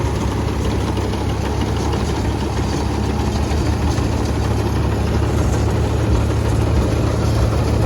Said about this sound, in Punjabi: ਜੈਨੂਆ ਟਰੈਕਟਰ ਤੇ ਮਸ਼ੀਨ ਕੋਈ ਮਸ਼ੀਨ ਦੀ ਬਾਜ ਨਹੀਂ ਕੋਈ ਖਾਜ ਨਹੀਂ ਜਮਾ ਓਕੇ ਚੱਲੀ ਜਾਂਦੀ ਆ